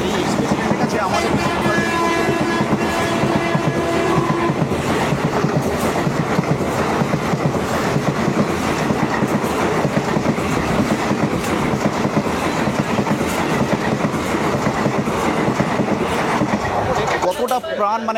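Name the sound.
Tamralipta Express train passing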